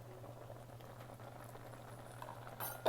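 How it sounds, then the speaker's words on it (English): Rice simmering in a pot for yogurt rice, with soft, steady bubbling that stays faint throughout and rises to a brief louder burst at the very end. "now you can see the rice starting bubbly"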